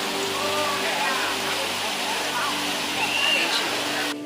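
Floodwater rushes with loud, continuous roaring and churning, steady and close throughout without a break.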